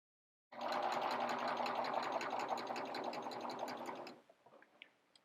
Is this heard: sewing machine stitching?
yes